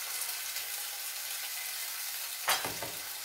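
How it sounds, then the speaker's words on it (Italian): Vegetable broth splashes into a hot pan of artichoke risotto, a brief loud hiss bursting over a steady background sizzle of frying rice. "mettiamo un pochino di brodo vegetale"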